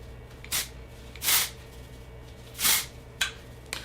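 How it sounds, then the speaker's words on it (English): Dry shampoo sprayed onto the oily underside of hair, heard as four short hissing aerosol bursts with gaps between them, close and fairly loud against a quiet room. "I just spray it on the underneath side of my hair where I know there's a lot of oil"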